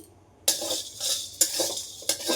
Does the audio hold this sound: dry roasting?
yes